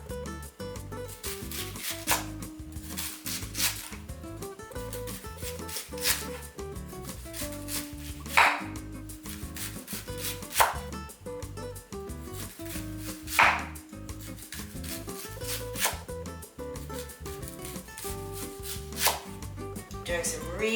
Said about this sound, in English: Doing some really nice big slices on this